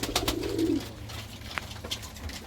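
A pigeon coos softly inside an aviary, a low rolling call near the start followed by faint rustling and a few sharp ambient clicks, with no voices.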